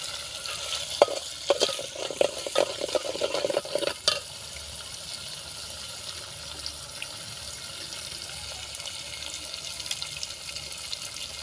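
Spicy masala cooking in a pan for vatana bhat, with a soft sizzle and a burst of stirring clatter in the first few seconds, then a quiet low simmer.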